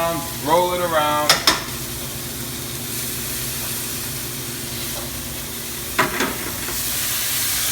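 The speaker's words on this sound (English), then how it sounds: "And we're just gonna try to sear it all the way around, roll it around." Beef sears in a cast iron skillet on full heat with a steady, soft sizzle and occasional sharp clanks as the meat is rolled around the pan, with a brief voice at the start.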